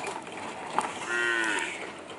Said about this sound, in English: There's the cow I was talking about.